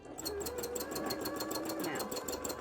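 A home sewing machine runs steadily for free motion embroidery, making a continuous close mechanical whir with a fast rapid stitching pulse and no pauses.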